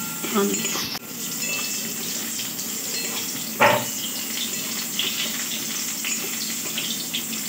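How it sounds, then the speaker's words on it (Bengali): Water is poured from a container into a pan where eggplant is cooking, a steady splashing pour running for several seconds in a home kitchen, with a sharp clink partway through. "একটু জল দিয়ে দিই।"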